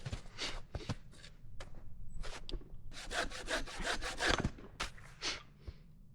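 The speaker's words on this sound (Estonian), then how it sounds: "ma proovin saagida" Hand saw cutting through dry, resinous wood outdoors in a forest, a steady series of rasping back-and-forth strokes, close and fairly loud, with brief pauses between bursts and no talking.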